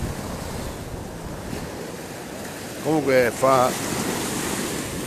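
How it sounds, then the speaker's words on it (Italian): Ocean waves wash in toward the shore with a continuous, moderately loud surf rush and wind noise, while someone speaks briefly over it. "se sentite il rumore che viene da lontano, le onde che poi si avvicinano"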